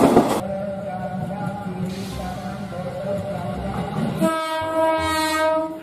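A train with a women-only passenger carriage rolls past close by, its horn sounding in long sustained blasts over a steady rumble of wheels and carriages.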